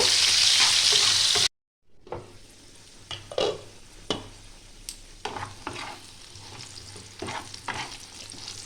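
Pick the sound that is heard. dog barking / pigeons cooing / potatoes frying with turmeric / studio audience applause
potatoes frying with turmeric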